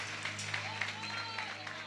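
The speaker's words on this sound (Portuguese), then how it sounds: "Aplauda Jesus, irmão." A church congregation at a Sunday family service applauds, with continuous scattered clapping and crowd noise heard under a voice speaking.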